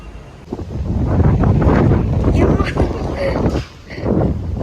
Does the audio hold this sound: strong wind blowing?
yes